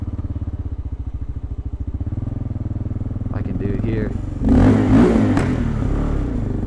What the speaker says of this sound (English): You can get some cool little backfires here and there.